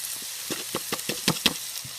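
Potatoes and carrots drop into a pan of cooked hamburger meat, making a string of soft knocks and light sizzles that come close together, near and fairly quiet over a faint background hiss.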